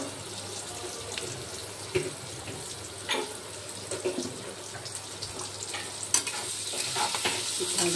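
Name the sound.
vegetables with Kashmiri chili frying and being stirred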